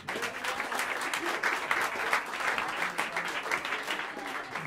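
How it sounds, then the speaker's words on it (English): Audience applause fills a live jazz club as a quartet's players are introduced, with dense, steady clapping holding at a fairly loud level throughout, no speech over it. "give a warm round of applause"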